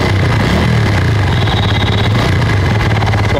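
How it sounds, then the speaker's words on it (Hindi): Bajaj Pulsar P150 single-cylinder motorcycle engine running steadily just after starting, a loud, close, continuous throbbing idle with a mechanical clatter and no talk. "ये काफ़ी अच्छा साउंड है भाई इस बाइक का"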